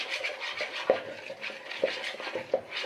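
Oat flour is stirred into egg batter for a healthy oat-flour omelette, with close, soft scraping and swishing broken by light clinks against the bowl about once a second.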